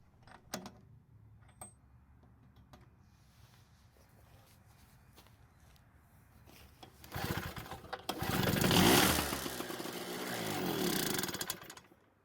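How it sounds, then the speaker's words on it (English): A Storm Cat portable generator's small engine sits quiet after a few faint knocks, then fires and runs roughly for several seconds before cutting out, heard at moderate volume. "Fortunately, the engine started and ran for a second"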